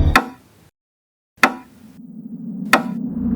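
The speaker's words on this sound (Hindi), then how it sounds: "हरीश ने उस दरवाजे को खटखटाया तो सही" Three sharp, loud knocks on a door, spaced more than a second apart, with silence between the first two and a low hum beneath the last two.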